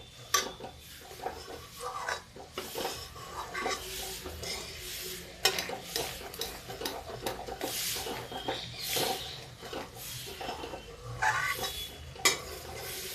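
Spice masala with cream is stirred and fried in a pan while making a rajma kofta curry, a close, steady sizzle under repeated scraping strokes and occasional spoon clinks against metal.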